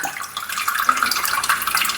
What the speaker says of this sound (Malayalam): കുതിർന്നിട്ടുള്ള പുളി ഇതാ ഇതിലേക്ക് ഒഴിക്കാം